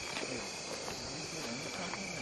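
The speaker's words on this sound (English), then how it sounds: "Got some frogs calling in here." Frogs call at night in the Ecuadorian Amazon rainforest, a dense steady chorus of high trilling insect-like pulses with a constant ringing tone, heard at a distance and with no talking.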